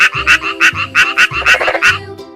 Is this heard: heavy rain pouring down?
no